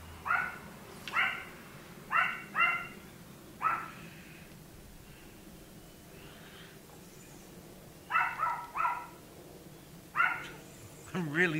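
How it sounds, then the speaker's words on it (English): A dog barks repeatedly in the background, sharp yips spaced a second or two apart in two clusters, while a person talks quietly nearby. "I'm really sorry for my dog barking in the background"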